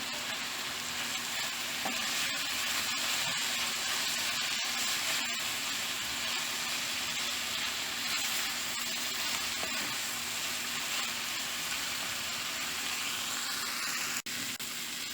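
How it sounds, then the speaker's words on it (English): Bitter melon stir-frying with grated garlic, paprika and spices in a pan, a loud continuous close sizzle with repeated scraping stirs and no talking. "I'm going to add the grated garlic. We're going to mix this together. Keep on stirring."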